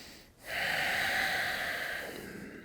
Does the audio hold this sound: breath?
yes